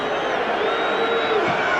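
Large football crowd at Stamford Bridge for a 1976 FA Cup fifth-round match between Chelsea and Crystal Palace, roaring steadily as the teams come out, a dense sustained wash of cheering with no break.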